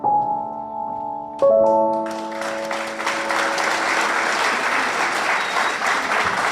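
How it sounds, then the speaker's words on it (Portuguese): Audience applause bursts out after a few sustained musical tones, following a poetry recital at a creative arts and literature event. The clapping is dense and steady, filling the room and lasting several seconds. "Um aplauso mais forte para a biografia."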